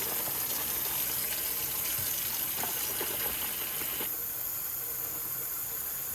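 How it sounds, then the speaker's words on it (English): Hot water runs steadily from a tap into a sink, a constant close hiss and splash that softens slightly partway through, with no voices. "I'm using hot water here."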